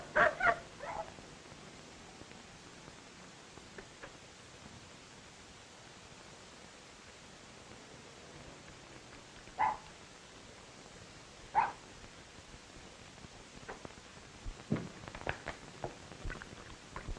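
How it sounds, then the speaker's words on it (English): A dog in a 1940 crime drama gives a few short yips and barks, spread apart against a steady hiss of background noise, with a small whimper near the end. "mighty fierce dog you've got there"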